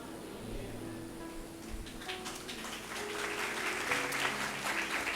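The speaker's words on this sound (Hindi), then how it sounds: "और यीशु से तालियां बजानी है तो फिर अच्छी तरह बजाओ" Congregation clapping at a Hindi-language church sermon on Jesus, scattered hand claps rising into denser, louder applause over a sustained organ-like tone, with a voice briefly audible.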